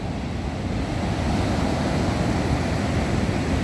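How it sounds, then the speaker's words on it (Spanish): Large ocean waves, roughly four to five metres high, roar at Acapulco ahead of Hurricane John, a dense, steady wash of surf mixed with wind buffeting the microphone, with no talking. "Vean esas olas. A lo mejor no se aprecia bien en la cámara, pero son al menos de unos 4 o 5 metros."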